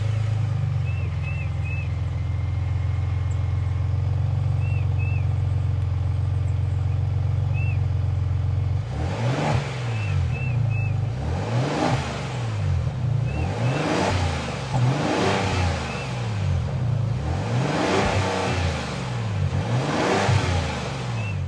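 A high-output twin-turbo 3.5-liter EcoBoost V6 in a 2026 Ford Expedition Platinum Ultimate with high-flow exhaust idles quietly, then fires into a series of about six loud, repeated revs rising and falling, no talking.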